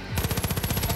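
Rapid automatic gunfire from a video game weapon, a fast even stream of close, loud shots repeating about a dozen times in a second.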